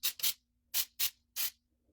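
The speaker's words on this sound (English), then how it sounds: "I'll just grab my baking spray and hit them little spots" Five short hissing bursts of baking spray into a cake pan, two quick ones, a pause, then three more, close and fairly loud.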